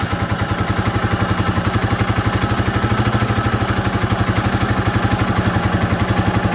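A KTR150 motorcycle fitted with DC ignition and a Sanshin regulator idles steadily after starting, its single-cylinder thump pulsing in an even, rapid rhythm, close and loud with no voices.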